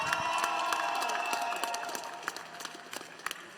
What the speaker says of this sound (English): Who out there is cheering on the Blue Alliance?